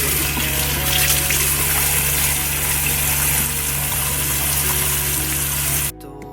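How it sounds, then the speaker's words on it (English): Running tap water splashes steadily over wet hands at a sink during an at-home gel manicure, a continuous close gush that cuts off abruptly near the end. "So now I am going to just wet my hands with water"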